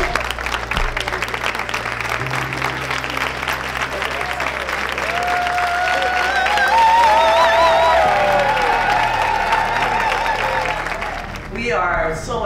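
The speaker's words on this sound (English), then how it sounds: "Let's give her a standing ovation." A gala crowd rises in a standing ovation, with sustained applause, cheers and whoops that swell toward the middle, and a voice speaks briefly over the noise.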